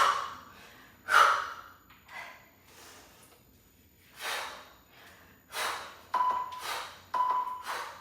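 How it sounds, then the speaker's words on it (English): Sharp exhaled breaths during a dumbbell HIIT workout, about half a dozen forceful huffs at uneven intervals, close to the microphone, with a faint metallic ping between some of them. "That's the breathing. Especially on that power or exertion, we exhale."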